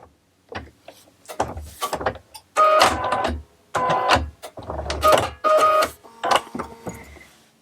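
A sewing machine stitching across shelf liner for a gripper mat, running in loud mechanical whirring bursts that start and stop several times, with short quiet pauses between runs.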